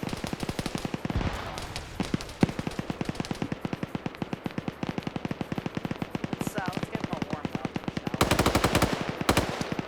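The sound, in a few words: machine gun fire in a video game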